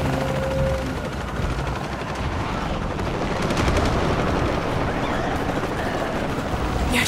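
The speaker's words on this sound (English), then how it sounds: "Helicopters." Helicopters drone continuously over an assault in the video game Shadow of the Tomb Raider, a loud, dense rotor roar mixed with bursts of gunfire throughout.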